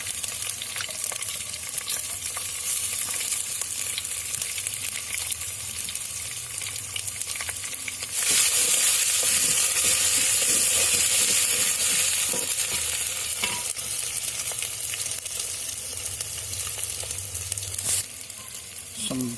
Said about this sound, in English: let's add up the ginger garlic, freshly prepared ginger garlic paste.